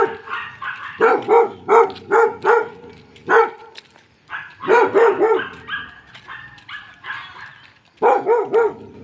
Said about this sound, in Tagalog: Laking aso nito, oh.